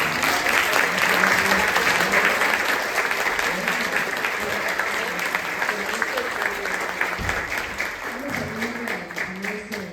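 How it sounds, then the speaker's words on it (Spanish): Sustained audience applause at an academic lecture on the biographical-narrative method in education, a dense, steady clapping from a large crowd lasting throughout, with a few voices faintly underneath. "vamos a darle un fuerte aplauso a la doctora"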